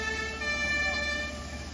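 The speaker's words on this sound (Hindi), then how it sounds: "पूरे शहर में इस वक्त सिर्फ सायरन की आवाज सुनाई दे रही है।" Air raid sirens wail steadily over a city in Ukraine, a sustained tone holding over a low background rumble.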